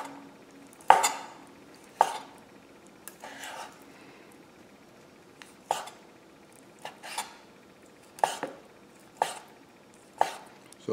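A knife cuts octopus into slices on a board for a Japanese-style cucumber salad, with about ten separate knocks and taps spaced a second or so apart in a quiet kitchen, and no one speaking.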